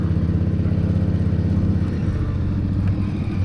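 Motorcycle riding through New York City traffic after the Brooklyn Queens Expressway, a loud, close, throbbing engine drone that stays steady with slight shifts in pitch.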